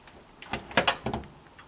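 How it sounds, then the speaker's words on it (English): A washing machine door is swung shut and latched, giving a few quiet, close thuds and clicks in quick succession, then silence. "I close and latch the door"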